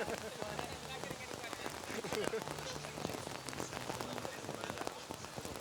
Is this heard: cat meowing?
no